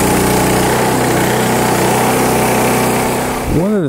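An all-weather portable generator engine runs loud and close with a steady, buzzing drone throughout, then shuts down and winds down in the final half second.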